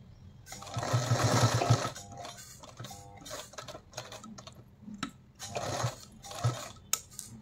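A sewing machine stitches a blouse in short, rapid bursts of mechanical rattling with pauses between runs, close and moderately loud, with handling clicks in the gaps.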